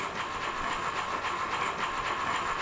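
Train ride ambience in the video game Echo Night: a continuous low rumble and hiss of a moving train carriage with faint rhythmic clatter, steady and fairly quiet throughout, with no talking.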